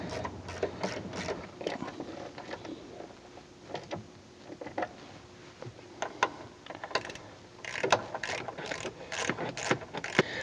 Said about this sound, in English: go ahead and reattach this fender using the factory mounting hardware and your 10mm socket